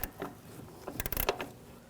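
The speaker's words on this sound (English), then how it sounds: "We get the ratchet wrench on one side, the other wrench," A ratchet wrench turns a control arm bolt on a 2006-2009 Audi S4, making a quick close run of light mechanical clicks and creaks that bunch up in the middle of the clip.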